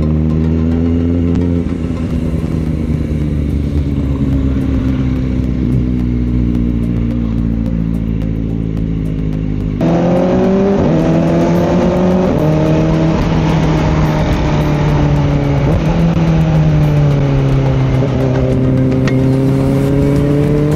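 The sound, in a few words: road traffic heard riding a Kawasaki Ninja ZX-4RR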